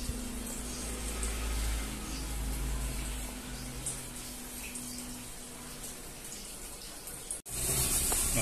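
Toshiba washing machine refilling with water: a steady, continuous rush of water pouring into the drum, close and even throughout, ending with a brief click and a pause before the flow resumes.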